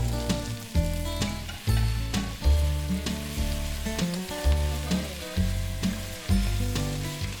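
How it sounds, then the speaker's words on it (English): Shallot, onion and fennel stir-frying in a pot over high heat give a continuous soft sizzle, partly masked by louder sustained tonal sounds that swell and fade in a regular rhythm. "Add onion and fennel. Stir fry until it becomes translucent."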